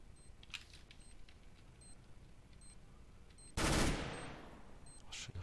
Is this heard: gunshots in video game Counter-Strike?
yes